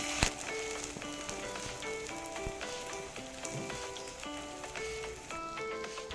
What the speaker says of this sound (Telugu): ఇంకొక వైపు కూడా ఒక 2 మినిట్స్ ఇలా ఫ్రై చేసుకోవాలి.